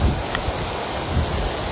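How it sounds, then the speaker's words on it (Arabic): Strong wind roars outdoors in the Izlf valley during stormy weather, a steady broadband rush with low rumbling gusts buffeting the microphone throughout. "رياح وكذلك قوية وزيد على ذلك أمطار اللي هي خفيفة شيئا ما"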